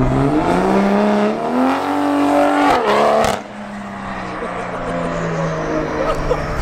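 A tuned Toyota Supra roars by in a flyby, its engine note rising loud and close before cutting off abruptly, then fading into quieter outdoor background.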